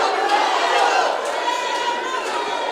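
A boxing crowd roars steadily behind fighter Ramirez, a dense, continuous wash of cheering and shouting that stays loud and even throughout, with no clear single voices standing out.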